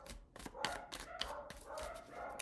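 Several dogs barking in quick, overlapping bursts at a distance, a rapid irregular chorus that keeps going throughout.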